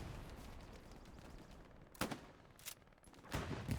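Trench shotgun blasts in the Hell Let Loose war game, three sharp booming shots spaced about a second apart over a steady bed of distant battlefield noise.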